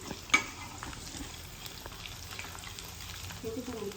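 Crushed garlic and curry leaves temper in hot oil with a low, steady frying sizzle and faint stirring, plus one brief sharp clink near the start.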